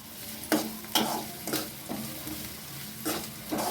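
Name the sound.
onions sautéing in a pan for drumstick poriyal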